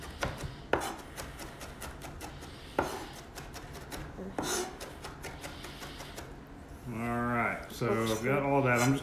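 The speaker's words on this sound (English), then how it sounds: "we wanna get the rosemary cut down so you don't have a bunch of big pieces of that" A knife chops fresh rosemary and thyme on a board for a lamb rack dinner in a home kitchen, giving a series of sharp, irregular close taps. A voice speaks near the end.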